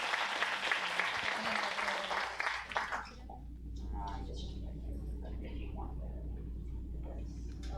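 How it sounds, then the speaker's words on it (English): An audience at a business talk on standing out in a competitive bookings market claps for about three seconds, a dense burst of applause that stops abruptly, leaving quiet room noise with faint movement. "give a round of applause"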